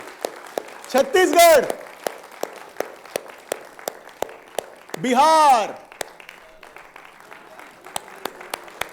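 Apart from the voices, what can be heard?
audience clapping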